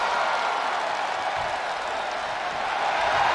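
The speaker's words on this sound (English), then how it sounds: "As Trevor's taunting this crowd, you know this crowd is firmly behind the future War Cult" A large arena crowd in a WWE 2K23 wrestling game keeps up a dense, continuous roar of applause and cheering throughout, steady and fairly loud.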